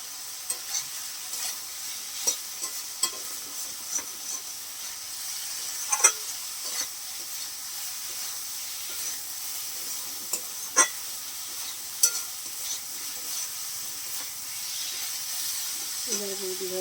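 Masala with coriander leaves sautéing for a cauliflower, potato and rohu fish curry, a steady broad sizzle with repeated light stirring scrapes, close and continuous, with a brief voice-like sound near the end.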